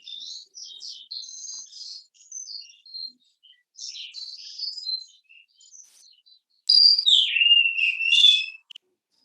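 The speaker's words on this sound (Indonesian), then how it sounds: "Wah, burungnya bunyi ya" Songbird singing with high, varied whistled chirps and trills in short phrases, growing louder and more continuous toward the end, with no talking.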